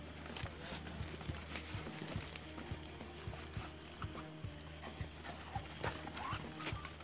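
Hunting dogs on a swamp rabbit hunt move closer through thick brush, with quick rhythmic footfalls and rustling, faint and distant, joined by occasional yips.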